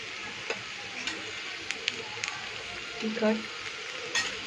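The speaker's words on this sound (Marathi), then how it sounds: "भेंडी 5 ते 6 मिनिटं फ्राय करून घ्यायची" Okra (bhindi) fries in a pan for a festive Maharashtrian thali, giving a steady low sizzle with faint clicks and a brief stirring scrape, while a voice talks quietly over it.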